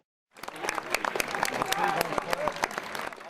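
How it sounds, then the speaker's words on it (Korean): Korean high school juniors cheering and applauding to send off seniors leaving for the college entrance exam, a sudden burst of dense clapping mixed with shouts that stays loud to the end. "후배들도 결전을 치르러 출발하는 선배들을 힘찬 함성과 박수로 응원하며 힘을 보탭니다."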